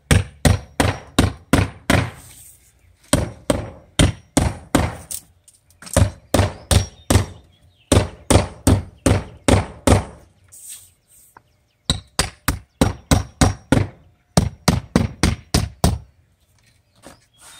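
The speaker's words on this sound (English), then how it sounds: "I'm gonna take my hammer and just drive any nails in that I see that's sticking out" Sharp, loud hammer blows driving protruding nails into house siding in quick rhythmic bursts of five or six hits, separated by short pauses, close by.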